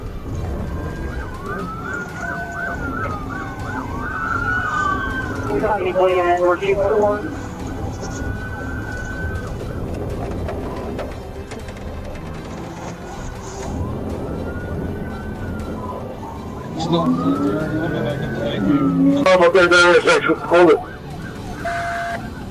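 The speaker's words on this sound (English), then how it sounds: "his patrol car's lights and siren blaring" A patrol car's wailing police siren rises and falls over the vehicle's rumble during a high-speed chase, fading in and out, then swells loud near the end with a sharper yelping sweep.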